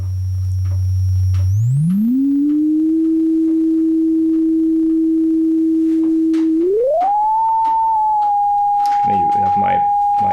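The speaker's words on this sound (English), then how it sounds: "let's listen for the first oscillator, and with the sine wave here, and let's make the filter fully open." A sine wave from the first oscillator of a Cre8audio CHIPZ modular module with its filter fully open, a steady held tone that glides up in pitch twice and ends high and sustained, slightly gritty rather than pure.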